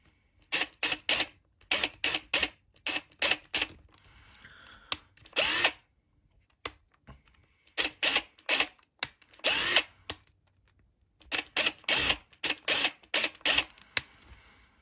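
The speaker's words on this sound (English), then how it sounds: "So then I'm going to try to just drill it out a little more." Repeated bursts of a power drill drilling out a screw hole in knife scales, whirring in short on-off spurts with brief pauses between, close and fairly loud, no talking.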